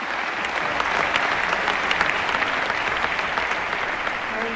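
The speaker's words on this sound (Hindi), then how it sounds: "जोरदार तालियों से स्वागत करें वहीदा जी का।" Warm, steady applause from a large audience at the 69th National Film Awards ceremony in New Delhi's Vigyan Bhavan greets Waheeda Rehman, continuous dense clapping without any pause.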